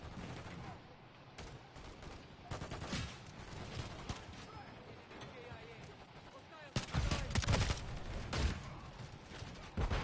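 Gunfire in a first-person shooter match on the cramped Shipment map, with bursts of shots rattling on and off, growing louder and denser near the end, under a voice talking.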